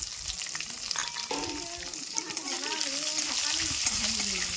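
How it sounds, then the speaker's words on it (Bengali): Chopped green chillies and onion fry in hot oil beside already-fried bori lentil dumplings, a steady bubbling sizzle that swells louder toward the end, with no speech. "দেখুন বড়িটা ভাজা হয়ে গেছে, দিয়ে দেবো দেখুন কাঁচা লঙ্কা আর পেঁয়াজ"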